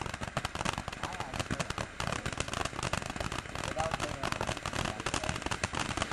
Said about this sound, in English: It's like a mini fireworks show.